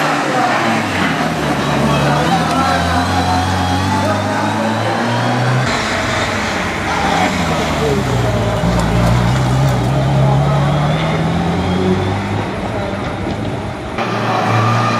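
Rally cars at the Barum Czech Rally in Zlín drive past, their engines rumbling and revving loudly with shifting pitch as they move, while a person talks over the noise throughout.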